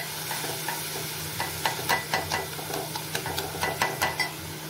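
Masala for a surmai (kingfish) kalvan curry being stirred and roasted in a pot over a low flame with a splash of water, giving a soft steady sizzle broken by repeated close scraping and stirring strokes.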